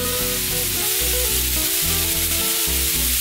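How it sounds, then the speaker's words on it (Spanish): Sliced chorizo hitting a pan of three refried meats for tapao arrecho, giving a loud, steady sizzle and hiss, with a music-like tonal bed running underneath. "ahora voy a agregar un chorizo en rodajitas"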